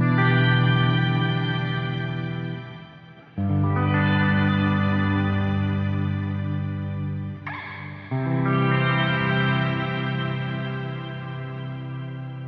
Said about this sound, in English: if we increase the feedback, that means that our delays are going to repeat for longer